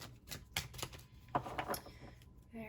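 A Numinous Astro tarot deck is shuffled by hand, a quick run of crisp papery riffles and taps, close and fairly quiet.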